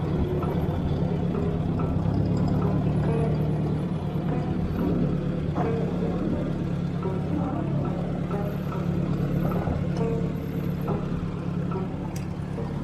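A 1957 Ford tractor with a dirt bucket working a small pile of furnace debris and dirt, a steady low engine rumble close by with faint scrapes and clanks over it and no talking.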